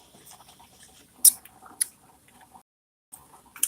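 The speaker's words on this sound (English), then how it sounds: "That's coffee you hear in the background, by the way." A coffee percolator perks in the background, giving soft irregular ticking, bubbling and dripping with a few sharper pops, faint and intermittent against a quiet room.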